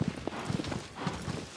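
Horse hooves clip-clop at a steady, fairly quiet rhythm in the video game Shadow of the Colossus as the horse is ridden through a forest.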